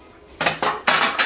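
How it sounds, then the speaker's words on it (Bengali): Dishes and metal utensils being washed in a home kitchen, with three bursts of clattering pots and cutlery in quick succession, fairly loud and close, no talking. "আর এই বাসন পানাটি একটু ধুয়ে দাও"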